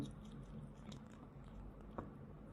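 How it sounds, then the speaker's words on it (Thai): A squirrel gnaws on a piece of baby corn close up, giving quiet, steady chewing and biting crunches with a slightly sharper bite near the end, over low background noise. "นี่กินข้าวโพดอ่อน"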